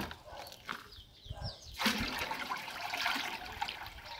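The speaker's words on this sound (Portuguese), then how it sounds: "Eu tô transportando água de um tanque para o outro." Water pours and splashes as it is moved from one tank to another in an improvised transfer setup, a continuous nearby rushing trickle that swells partway through.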